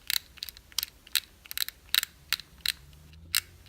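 Gears turning on an Antsy Labs fidget cube give a string of sharp, close clicks. They come in irregular bursts over a faint, quiet background.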